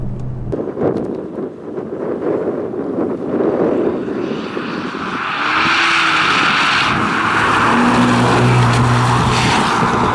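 An Alpine A110 sports car on a race circuit, its engine heard from onboard rising and falling through braking and cornering, the note climbing into a loud sustained run in the second half.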